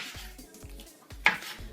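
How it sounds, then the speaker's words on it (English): Fresh tomatoes chopped on a board, quiet soft knife knocks in a regular rhythm of about four strokes with a brief clink near the end, no talk. "now I'm going to chop up these fresh ones to add to the pot"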